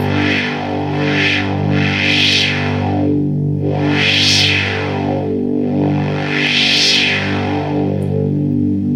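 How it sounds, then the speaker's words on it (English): A microKorg synthesizer holds a sustained tone with a resonant filter sweeping up and down, bright whooshing peaks rising and falling in slow waves. "You can hear that resonance change, and then your cutoff."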